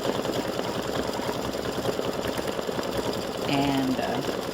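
A machine stitches the top straps of flip flops in a fast, even, close chatter of needle strokes that runs without a break, with a brief tonal squeal near the end.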